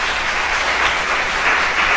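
Church congregation clapping during a Saturday worship service, a dense, loud, even wash of many hands applauding together for a couple of seconds without a break.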